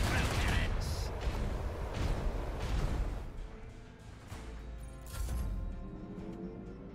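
Battle in the video game Warhammer 40,000: Rogue Trader, with a dense rumbling barrage of gunfire and booming blasts under game sound, easing off midway and then swelling again.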